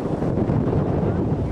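Wind buffets a microphone outdoors during a visit to a skatepark in Belgium, making a loud, continuous rumbling roar for a brief moment.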